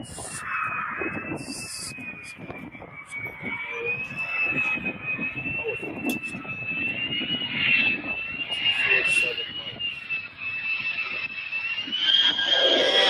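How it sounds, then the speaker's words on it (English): An aircraft making a low pass over the runway at the Oshkosh 2025 airshow arrivals, a steady loud engine drone with a whining tone that swells and fades, while people talk over it. "I suspect these gear might come back up, which will mean a noisy low pass."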